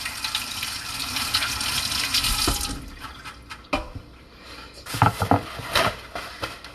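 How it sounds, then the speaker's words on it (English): Hands washed under a running kitchen tap while baking a strawberry cake from scratch: water gushes steadily for nearly three seconds, then cuts off, followed by a few sharp clatters close by, with no talking. "Let me get a quick wash of my hands."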